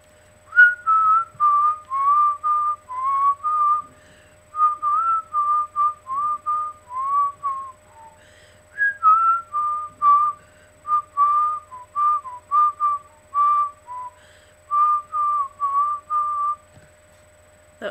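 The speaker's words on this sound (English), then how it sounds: "What genre of music I'm whistling." A person whistles a song chorus alone, with clear, bright melodic phrases in short repeated bursts and brief pauses between them, steady and close throughout.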